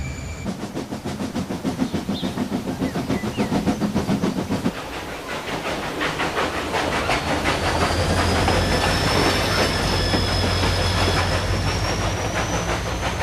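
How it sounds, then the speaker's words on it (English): A diesel locomotive pulls a train of passenger carriages on a railway, loud and close, with rapid rhythmic clickety-clack of wheels, a deep engine drone, and a long hiss and high whine as it passes. "Here comes another kind of diesel engine."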